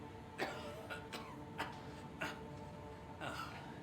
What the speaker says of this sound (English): Look at him coughing and everything.